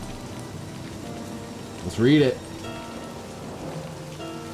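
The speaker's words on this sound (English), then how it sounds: "Raindrops splatter on the paper, leaving small, wet stains." Steady rain from the visual novel video game Livber: Smoke and Mirrors, a constant soft hiss of drops falling on a surface, with a person speaking briefly over it partway through.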